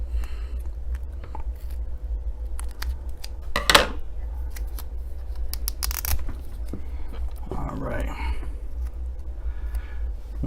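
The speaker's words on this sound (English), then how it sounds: "what I'm going to do is I'm going to cut a little bit of double-sided tape" Scissors snip through a small piece of double-sided tape during a car key repair at a workbench, giving a few brief close cuts that stand out over a steady low hum.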